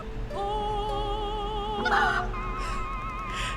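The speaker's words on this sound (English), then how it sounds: "That's that freaking chicken singing." A video game chicken lets out drawn-out, wavering clucks and squawks, with a louder burst partway through, over a low steady background hum.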